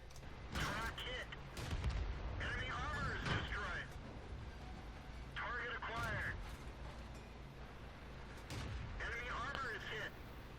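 A Matilda tank in World of Tanks fires its gun at a Panzer on the Cliff map, heavy booms and rumbling impacts spread through the clip, with someone talking over them.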